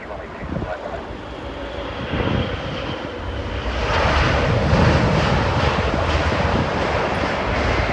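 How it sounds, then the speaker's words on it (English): A British Airways Boeing 787 airliner at Heathrow's runway 27 right gives a loud, steady engine roar that swells and holds, mixed with wind noise on the microphone. "Behind this landing, British Airways 787, flight after 7, crosses runway 27 right behind."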